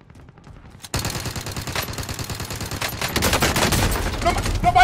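Gunfire in Warzone starts abruptly after a quiet moment, with rapid automatic bursts rattling loudly and continuously and growing more intense toward the end.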